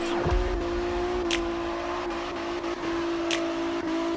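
A Nissan GT-R R35 drifts in CarX Drift Racing 2, its engine holding a steady loud drone with brief revs and faint tire noise, continuous and close with no talk.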